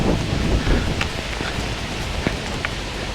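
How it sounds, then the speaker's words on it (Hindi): Heavy monsoon rain pours down steadily in the Sandhan Valley, Western Ghats, Maharashtra, a dense hiss of drops with occasional louder splashes close by. "गजब का बारिश चल रहा है"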